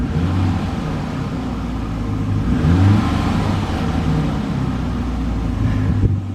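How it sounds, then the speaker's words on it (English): A car engine fitted with a throttle controller revs steadily up close, a loud, sustained low rumble with a gentle swell in the middle and no voices over it. "I'm gonna rev the engine"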